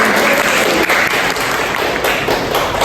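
A classroom of students applauds together after a correct answer in a computer networking lesson, steady close clapping filling the room for the whole stretch.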